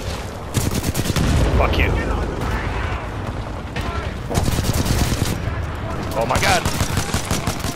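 Rapid automatic gunfire and sharp shots from the Titanfall 2 campaign, a dense loud fusillade running throughout with bursts of heavier impacts, while a player shouts and swears over it.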